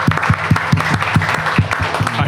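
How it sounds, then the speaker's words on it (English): An audience at a New York City event applauds in a fairly loud, close patter, while a few strong low thumps beat in a roughly regular rhythm underneath. "can we get an applause for Paul, please?"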